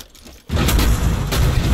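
Gunfire bursts out in the co-op shooter Far Cry 5, a sudden loud volley of shots after a quiet moment, sustained and dense like a fusillade.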